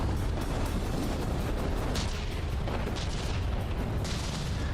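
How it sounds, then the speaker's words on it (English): Cram mortars firing in the naval combat game From the Depths, a steady rumbling barrage of booms with faint crackling bursts layered over dense low-end noise, no voices. "I kind of love that my cram mortars are actually doing something in this"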